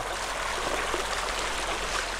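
Steady rushing of a flowing river stream, continuous broadband water noise with no talking, fairly close and even in level throughout.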